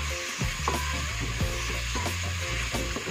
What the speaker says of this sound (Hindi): दो मिनट तक इसे अच्छे से भुने के पकाएंगे हम।